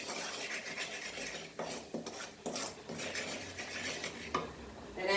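Pasta being stirred and mixed in a pan with rice instant spice mix, steady scraping and clinking of a utensil against cookware with a few sharper knocks, close and continuous with no talking.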